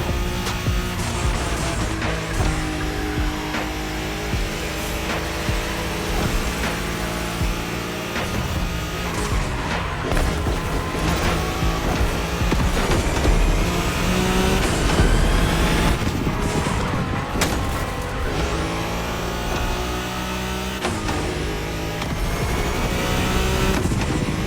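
A Nissan Skyline racing flat out on a Tokyo Bayshore Wangan route in The Crew Motorfest, a loud sustained engine roar with shifting pitch, gear changes and brief tire squeals, continuous with no talk.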